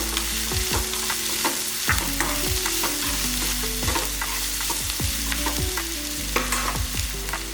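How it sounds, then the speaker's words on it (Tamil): Onions sautéing with one whole green chilli for a tomato kurma, a constant sizzle under busy, rhythmic scraping and clattering of a spatula against the pan, close and loud. "கொஞ்சம் வெங்காயம் நல்லா வதங்கிட்டா வதங்கும் போதே ஒரே ஒரு பச்சை மிளகாய் மட்டும் முழுசாக போட்டுக்கலாம்"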